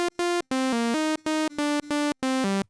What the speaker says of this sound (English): It's just a basic saw wave, sounds like this.